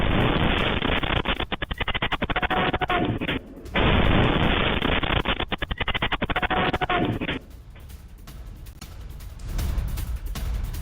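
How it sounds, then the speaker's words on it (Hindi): Iranian missile strike in Arad captured on CCTV: loud, sustained, distorted blast noise with crackling impacts, a brief dropout, then a rumbling quieter tail. "ईरान ने अराद में भीषण मिसाइल से हमला किया"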